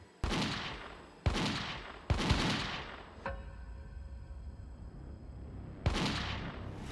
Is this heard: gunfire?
yes